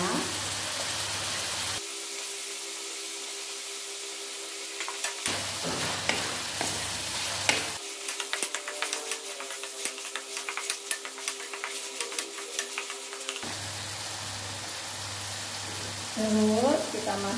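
Pork capcay cooking in a home Balinese kitchen: meatballs stirred into pork in a pan, with steady sizzling, frying and occasional scraping and clinking of a utensil against the pan, and a voice speaking intermittently over it.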